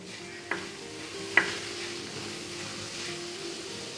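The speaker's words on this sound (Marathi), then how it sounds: "आता हे छान असं परतून घ्यायचं आहे" Chili and coriander powder spices sauté in a pan, a soft continuous sizzle with two brief utensil taps against the metal, no talking.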